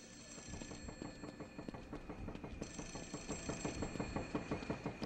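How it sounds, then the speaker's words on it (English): A telephone rings with a fast rattling bell trill in the video game The Suffering: Ties That Bind, repeating steadily and quietly over a low background hum, with no voices. "Now you know you took care of all the soldiers when you hear the phone ringing."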